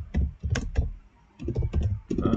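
Typing on a computer keyboard, a short run of close, crisp key clicks in two small clusters separated by a brief pause.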